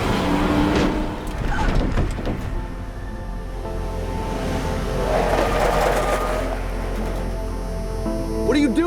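Car engine roaring as the vehicle speeds away, a steady close drone with brief tyre noise and shouted voices over it.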